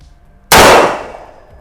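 A single sharp shot rings out from a Smith & Wesson S&W 4506 pistol at an outdoor range, loud and close, with a ringing tail that fades over about a second after a quiet lead-in.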